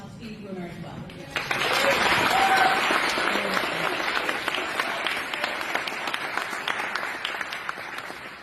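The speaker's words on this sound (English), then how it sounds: "So please give a round of applause to Steve Bruner as well." Audience applause at a state political party convention, sustained broad clapping that starts abruptly and holds steady, loud and fairly close, with no talk over it.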